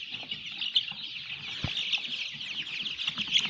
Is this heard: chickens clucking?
yes